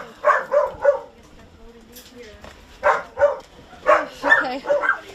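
Dogs and small puppies seized from a crowded Michigan home give repeated yips and barks in quick clusters, close by, with short whimpering pauses between bursts.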